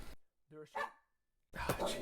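A dog on a television barks a couple of sharp times at moderate distance. Silent gaps fall between the barks, and a voice comes in at the end.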